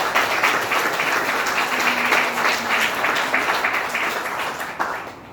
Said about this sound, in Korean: 하나님 앞에 감사의 영광의 박수 한번 올려드립니다.